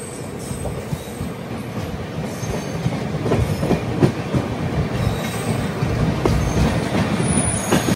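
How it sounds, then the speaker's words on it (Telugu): Two trains run side by side on parallel tracks of the Jodhpur to Tiruchirappalli Humsafar Express journey, a steady loud rumble of wheels and carriages with faint clickety-clack and occasional squeal, no talk. "చాలా సేపటి నుంచి ప్యారలల్ రన్ అయితే అవుతున్నాయి రెండు ట్రైన్లు."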